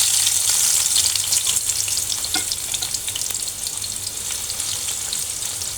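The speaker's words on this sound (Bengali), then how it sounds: "তো করলাগুলো মেখে নেওয়া শেষ, আমি এখন ভেজে নেব।" Sliced bitter gourd frying in hot oil, giving a steady, close, loud sizzle with faint stirring crackles throughout, no voices.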